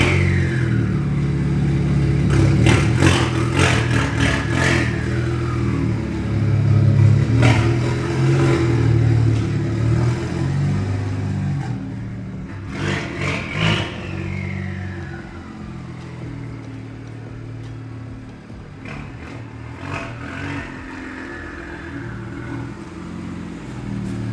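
A BMW car engine, just converted to a 1M-style battery setup and not run for weeks, roars as it is revved again and again in close, loud bursts over a rumbling idle, with no talk.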